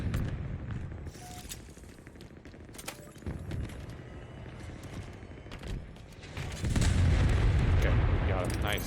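Halo Infinite Big Team Battle match with plasma grenade blasts and steady gunfire, a dense loud barrage of crackling shots and booms that swells heavier near the end, with a voice talking over it.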